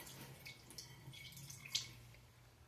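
Faint water drips and light trickling while cat water dishes are being cleaned, with one sharper drip standing out near the end, soft and close.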